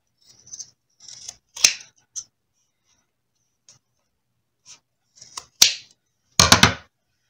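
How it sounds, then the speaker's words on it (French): Scissors snipping through fabric seam allowances while sewing a garment, a series of sharp, close snips spaced irregularly, with a denser burst of cuts near the end and no talking. "je viens couper mes marges de couture comme ça tout le long"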